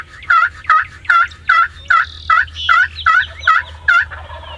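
Wild turkeys gobble repeatedly in answer from the bottom field near a hunting blind, about ten loud, close rattling gobbles in steady succession with no talk.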